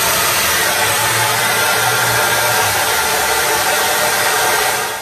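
Remington New York 1937 Aero 2000 hair dryer, a powerful 2000-watt blower, runs steadily and loudly close by with a constant airy rush and a low motor hum, drying hair without pause.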